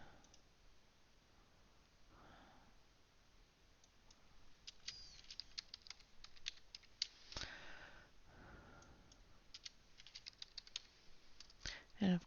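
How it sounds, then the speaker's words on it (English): Soft clicks and taps from a computer keyboard that sometimes fails to work come in irregular bursts, quiet and close, heaviest in the second half, with a few breaths and rustles between them. "my keyboard sometimes doesn't like to work."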